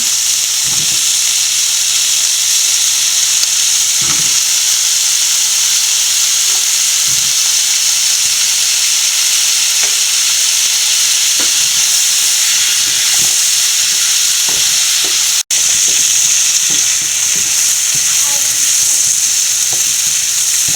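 Potatoes fry and get stirred in a pan for Kuttanadan duck curry, a loud, constant hissing sizzle filling the whole clip, with soft scraping knocks of the spoon recurring throughout.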